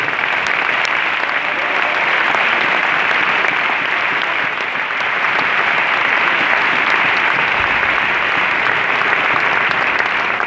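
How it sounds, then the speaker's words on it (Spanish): A church congregation applauds steadily and loudly for about ten seconds, a dense, continuous wash of clapping hands with no speech over it. "Un aplauso a nuestro Dios."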